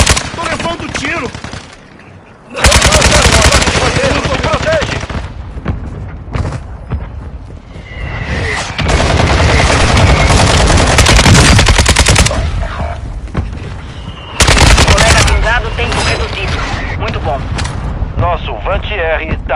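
Bursts of rapid gunfire from Call of Duty crash in loud waves, with heavy booms mixed in and a voice speaking Portuguese between the volleys.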